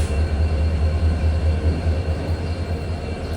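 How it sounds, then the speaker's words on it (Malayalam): The Silchar–Guwahati Express pulls out of a station with a steady, heavy low rumble of rolling carriages that stays loud and unbroken throughout, with no voices. "സിൽച്ചർ ഗുവാഹട്ടി എക്സ്പ്രസ് ഇതാ ഇവിടെ നിന്ന് എടുത്തു"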